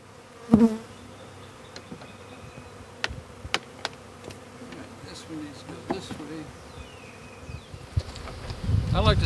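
Honey bees buzz steadily around an opened hive as it is inspected, a low continuous drone close by, with scattered clicks and knocks from handling and a louder rustle near the end.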